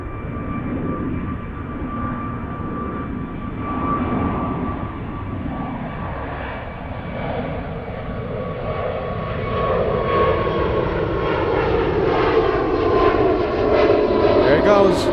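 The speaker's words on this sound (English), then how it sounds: "So that A330 conducting daily flights between Geneva and Zurich." Airbus A330 jet airliner at Zurich airport, a steady loud roar of jet engines that swells gradually, with someone talking over it.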